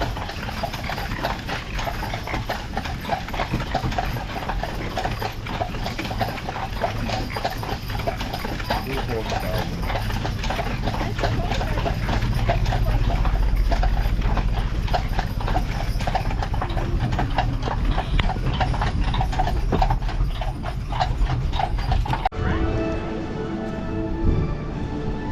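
Shod horse hooves clip-clop steadily on a hard surface at the Henry Ford Museum grounds, a rhythmic clatter that continues throughout with voices and street noise around.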